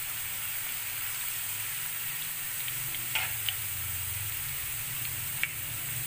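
Chilies sizzling in hot oil for a masoor dal tempering, a steady close hiss and crackle with a few sharp pops, with no talk.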